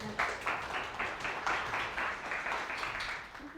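Steady applause from a seminar audience at a design event, many hands clapping at moderate volume with no gaps for several seconds.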